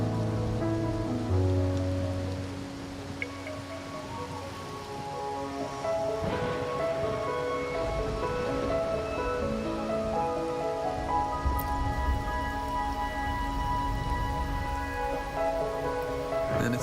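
Steady rainfall patters on surfaces in the video game Wuthering Waves, a continuous hiss of drops running under soft, sustained musical tones throughout.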